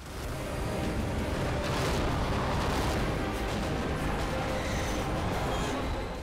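Heavy, continuous rumbling blasts and artillery fire from war footage, a loud dense barrage with no clear gaps between booms throughout.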